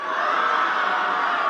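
A commencement ceremony audience erupts in a brief, loud, sustained roar of cheering and clapping from a large crowd.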